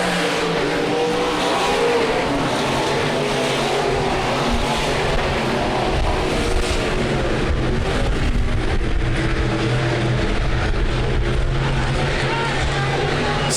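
Speedway race cars roar through an opening heat race at Rapid Speedway Nationals, a dense, continuous engine drone with revving and occasional tire noise, with an announcer talking over it throughout.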